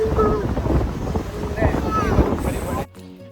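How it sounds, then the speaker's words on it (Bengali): A cruise boat moves across a deep freshwater lake toward Flowerpot Island, with a steady rush of engine, water and wind that stays loud for most of the clip and then drops away sharply near the end. "এখন আমাদের ক্রুজটা এগিয়ে যাচ্ছে ফ্লাওয়ার পট আইল্যান্ডের দিকে"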